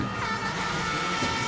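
A Mitsubishi Lancer Evo 10 rally car runs a stage at Rally Estonia, its engine a steady, fairly faint drone with a brief pitch shift near the end.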